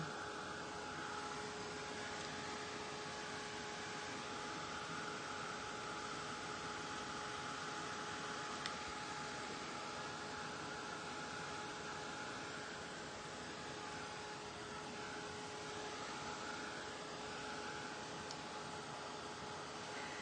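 A hair dryer blows in a steady, quiet, continuous whoosh with a faint tonal hum while it dries a homemade salt wash texture paint. No one speaks.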